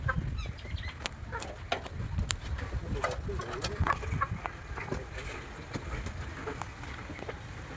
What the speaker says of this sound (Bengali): আর এখানে দেশি মুরগি রয়েছে।